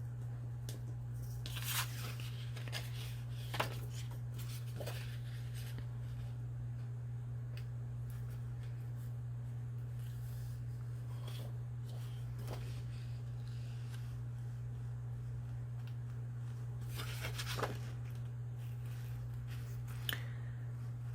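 Scissors snip around a paper label during fussy cutting, making sparse, faint crisp cuts and paper rustles over a steady low electrical hum.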